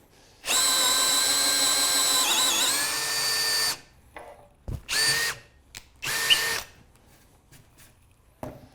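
Power drill boring holes into the wooden seat of a captain's chair, a loud sustained whine lasting several seconds, followed by shorter bursts and light handling knocks.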